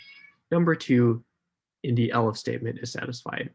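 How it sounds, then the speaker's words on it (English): A cat meows in the background beneath a voice explaining programming code, the cat's cries faint and partly buried under the steady talking. "And that's the cat there in the background."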